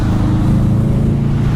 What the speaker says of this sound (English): It's a car with a big exhaust.